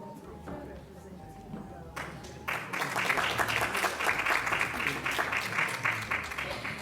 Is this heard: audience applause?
yes